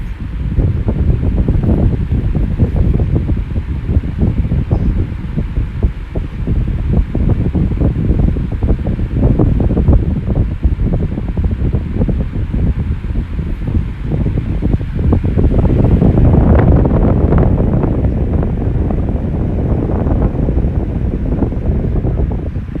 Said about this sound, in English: it's time to run the fan. Now this fan's pretty darn powerful on low